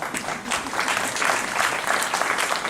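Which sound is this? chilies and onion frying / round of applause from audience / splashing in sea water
round of applause from audience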